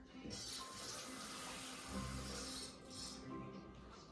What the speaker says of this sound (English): I'm gonna put the water in